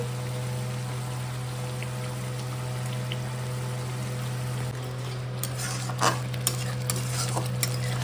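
Cauliflower with turmeric and salt fries in oil and is stirred, a close sizzle over a steady low hum, with sharper clattering scrapes of the spoon in the final seconds.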